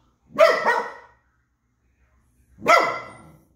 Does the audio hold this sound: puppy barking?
yes